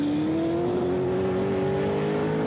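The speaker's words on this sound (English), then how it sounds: "Stippler's going past Tappy to put a lap on him" A GT race car engine screams steadily at the Navarra circuit in Spain during an FIA GT Series qualifying race. One strong, high engine note holds and climbs slightly, fairly close, with no talking.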